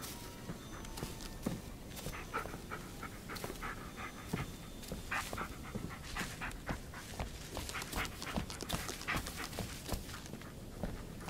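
A dog in the video game Blair Witch pants close and steadily for several seconds, with quick rhythmic breaths, soft shuffling paw steps and an occasional faint whimper.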